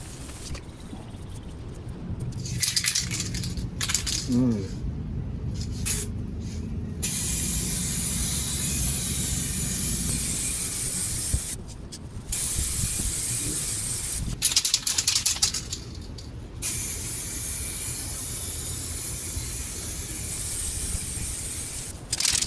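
Spray gun laying a second coat of paint on the roof of a 2011 Jeep Grand Cherokee: long, steady hissing bursts close by, stopping and restarting several times with short quiet gaps between passes.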